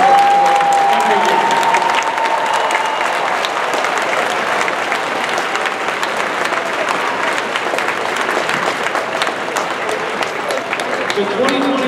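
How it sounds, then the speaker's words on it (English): A large crowd at a robotics championship arena applauds volunteers, loud sustained clapping throughout with a brief tone at the start and crowd noise underneath. "Can I please have a round of applause for the thousands of volunteers who make our lives happen?"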